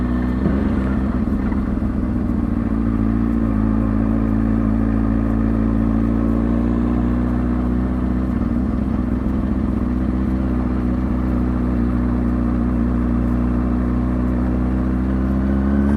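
A motorcycle engine running at slow speed under slight, steady throttle, a smooth, even mid-pitched hum that holds constant throughout, close by and with no talking.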